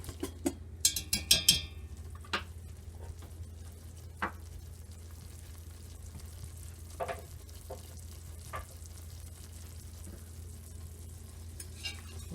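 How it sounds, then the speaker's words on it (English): Aromatics cook at a steady boil in a pot over a wood fire for a seafood bisque, giving a constant low bubbling hiss with a few sharp utensil clinks near the start and no talking. "And you can see I'm maintaining a consistent boil."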